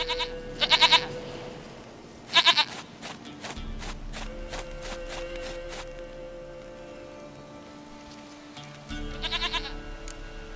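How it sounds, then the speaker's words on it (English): Goat bleating in the video game The Witcher 3: a few loud, wavering bleats near the start and another toward the end, over steady background music with light hoof-like clatter. "Goat of mine, dearest, sweetest goat."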